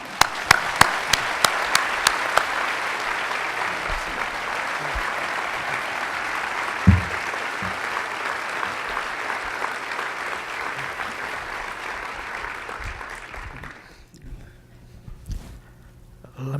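A lecture-hall audience at a BYU science talk gives a speaker warm, sustained applause, a close, dense clapping that holds steady for many seconds before thinning out and stopping near the end.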